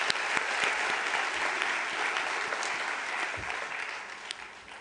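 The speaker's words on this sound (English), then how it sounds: "May we please give him a hand of applause again." An audience at a World Children's Day gathering applauds steadily, a dense wash of many hands clapping for several seconds without a break, fairly loud and even.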